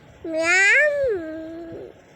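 A young voice mimics a cat with a single long, wavering meow, rising then sliding down, up close and fairly loud.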